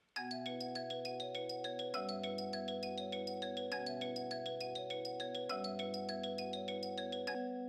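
A steady synth melody loops with deep sustained bass notes, slowed and pulsing evenly from start to finish, with no voices.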